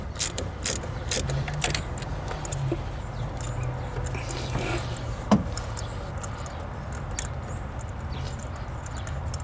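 Ratchet with an extension loosening spark plugs on a Gen 3 5.7 Hemi Dodge Ram engine, rapid clicking ratchet strokes in short bursts early on, then quieter mechanical handling and one sharp clank, close under faint background hum.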